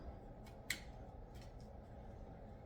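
Small pocket-size tarot cards are shuffled by hand, giving a few faint, quick papery riffles and one sharper snap against a quiet background.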